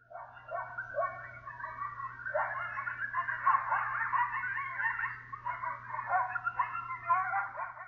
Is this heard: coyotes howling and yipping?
yes